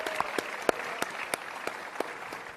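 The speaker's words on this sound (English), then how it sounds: "Can we give a round of applause to CPAC and the ACU?" Sparse, scattered clapping from a conference audience, a handful of distinct claps spaced irregularly and fairly faint over a quiet room.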